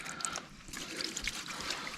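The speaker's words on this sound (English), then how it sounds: "you just push this little spigot and water comes out" Water trickles and splashes from the pushed spigot of a Sea to Summit water bladder at a near-freezing spring motorcycle campsite, a short close, steady burbling flow.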